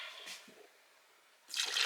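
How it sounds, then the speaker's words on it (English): Apple juice is poured into a canning pie filling of sugar, cinnamon, nutmeg and cornstarch. It sounds as faint, quiet liquid trickles: a brief splash early, a hush, then a louder pouring burst at the end. "And now we can pour in our apple juice."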